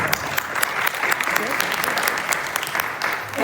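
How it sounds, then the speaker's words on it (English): An audience at a District 5 primary candidate forum claps steadily, a dense, fairly loud round of applause filling the room with no break. "Give yourselves a round of applause."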